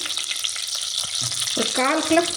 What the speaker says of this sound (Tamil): இதை இந்த வெண்ணெயில் சேர்த்துட்டேன்.